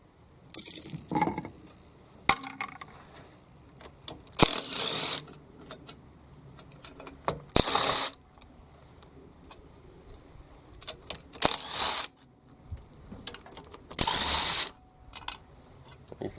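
A hand ratchet clicks in several short bursts while loosening intake manifold bolts on a 283 small-block Chevy engine during teardown, with quiet gaps and small metallic clinks between the bursts.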